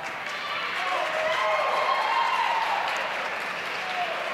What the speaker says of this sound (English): a little applause from the Rangers sideline